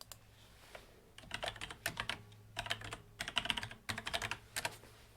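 Typing on a computer keyboard in a home workspace, bursts of quick clicking keystrokes in several runs with short pauses, close and fairly loud over a faint low hum, no talking.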